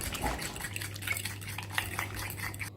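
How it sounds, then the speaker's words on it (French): A seasoned mixture of black pepper, salt, nutmeg and pumpkin is whisked in a bowl, with quick soft clinks and scrapes repeating steadily at close range. "Je vais tout fouetter."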